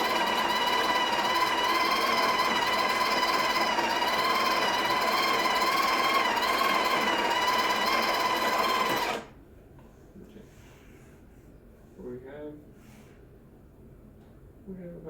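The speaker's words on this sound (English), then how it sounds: "So I'm going to grind for 10 seconds," A Breville Barista Touch espresso machine grinds coffee with a loud, steady whirring drone for about nine seconds, then stops abruptly, leaving quiet clicks and faint handling sounds.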